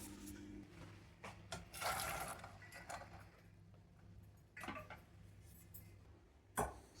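Excess water being strained off boiled channa dal, splashing and trickling in a kitchen sink in a few short bursts, with quieter gaps between them.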